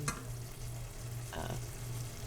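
Mexican squash veggie mixture is stirred in a pan, a low steady sizzle with two distinct spoon scrapes, one at the start and one midway, close up and with no talking.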